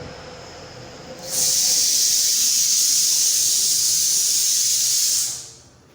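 Masala-coated cauliflower pieces drop into hot oil, setting off a loud, sustained frying hiss that holds steady for about four seconds before fading.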